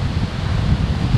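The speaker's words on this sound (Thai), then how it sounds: "เนี่ยครับต้นมะพร้าวเนี่ยลมจะแรงเลย" Strong wind blows at a Thai beach among coconut palms at Hua Hin, a steady, loud low rumble of gusts buffeting the microphone, with no voices.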